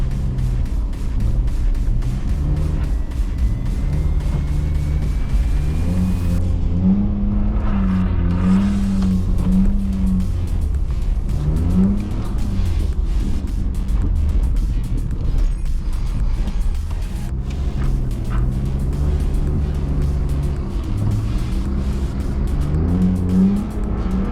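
A BMW E46 drifting on a winter night street, heard from the cabin: the engine revs rise and fall sharply through the slides, with steady loud drone and brief throttle lifts between bursts.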